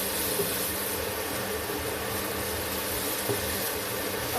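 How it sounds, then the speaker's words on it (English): Continuous sizzling and crackling of onions frying in a pan for chicken liver fry, a dense steady hiss throughout with no talking. "So I'm frying the onions now."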